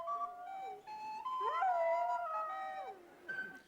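Dogs howl together in long, wavering, overlapping tones that rise and fall, loud and close, with no other sounds or talk.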